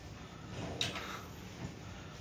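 A desk drawer in a hotel room slides open once with a short scrape and faint click against quiet room tone.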